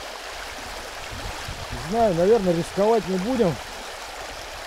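A fast-flowing stream of floodwater, deep enough to reach a car's bonnet, rushes with a steady broad hiss while someone talks over it.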